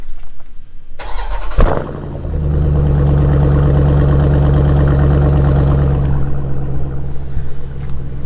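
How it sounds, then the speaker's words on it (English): A car engine cold-starts up close: a cranking burst, then a catch and a steady, loud, low exhaust idle rumbling on without talk. "let's at least do a cold start here next to it and see if you can figure it out from the sound of the exhaust"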